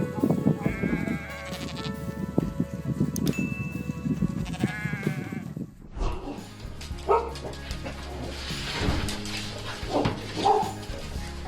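Sheep in a wide open field bleat as they run toward their caregiver, with loud calls mixed with rustling movement and what sounds like a dog barking in the later part, no speech over it.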